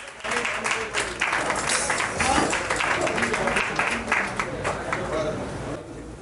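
Applause from an audience as awards are handed over on stage at a coronation-style celebration event, steady clapping filling the room throughout with voices mixed in.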